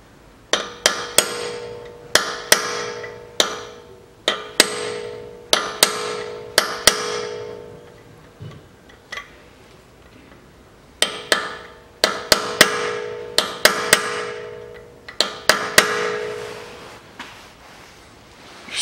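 Sharp metallic hammer strikes on a screwdriver staking the front drive axle nut of a 2006 BMW 530i E60 4WD, delivered in quick bursts of several blows with short pauses between, close and loud with no talk.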